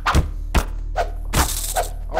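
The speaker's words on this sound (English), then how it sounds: "I've got the stun stick." Stun stick strikes in a Garry's Mod horror map: four or five dull, heavy thunks landing in quick irregular succession, close and punchy, with a faint low hum underneath.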